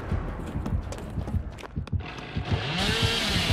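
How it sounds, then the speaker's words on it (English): A chainsaw revs in the video game Dead by Daylight, a rough, buzzing motor drone that surges and wavers over a few seconds, mixed with other game sounds. "Go ahead, chainsaw me."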